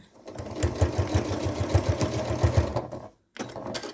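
Close, rapid sewing machine stitching as a pleat is tacked on a fabric bucket caddy, a quick rhythmic mechanical chatter for about three seconds, then a short stop and a brief restart.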